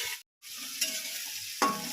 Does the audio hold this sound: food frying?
yes